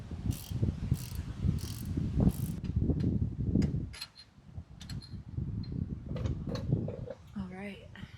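A hand ratchet works on the three bolts at the back side of the hub on a Jeep TJ Wrangler axle, giving intermittent clicks and mechanical ticks under close talk.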